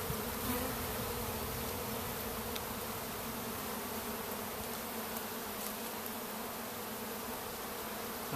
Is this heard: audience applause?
no